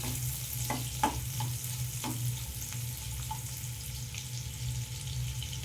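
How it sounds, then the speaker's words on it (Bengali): Carrots sizzling and being stirred in a frying pan for vegetable dal, a steady crackling fry with several sharp clinks of a spoon against the pan, close and continuous. "প্রথমে আমি গাজরটা দিয়ে দিলাম।"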